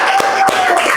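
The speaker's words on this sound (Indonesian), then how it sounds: "Kasih tepuk tangan dong." A classroom group claps hands, two sharp distinct claps standing out over a loud, steady background hum.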